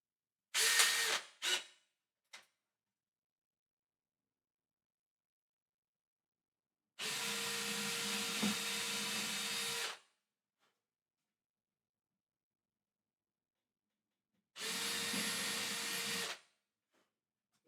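A small 5/64 drill bit boring screw holes into a custom guitar body in a luthier's workshop, heard as three separate whirring bursts: a short stuttering one first, then two steady runs of about three seconds with silence between.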